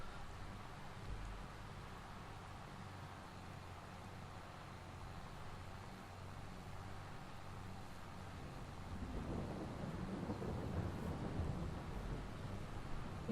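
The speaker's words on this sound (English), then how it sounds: "It's really raining." Steady rain falls in Farming Simulator 22 as a broad, continuous hiss, swelling heavier and louder toward the end, with a low rumble underneath.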